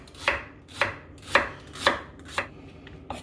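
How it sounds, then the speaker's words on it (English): A knife cuts a fennel bulb into thin slices on a board, making six evenly spaced, crisp chopping knocks about half a second apart, close and quiet with no talking. "This is a fennel bulb. Just going to cut it pretty thin"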